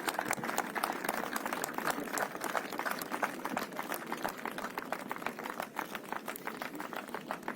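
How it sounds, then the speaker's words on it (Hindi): Crowd applause at an ITBP North West Frontier raising day ceremony as a battalion commander receives a trophy: dense, steady clapping from a large audience that carries on evenly throughout, with no voices over it. "जोरदार तालियां।"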